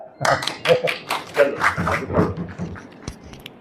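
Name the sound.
clapping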